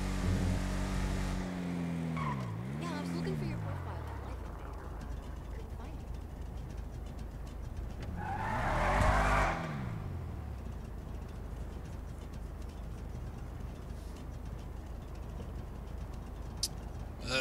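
A car engine strains and whines under load on a drive, two rising and falling revving surges standing out from a steady road rumble, with someone talking over it.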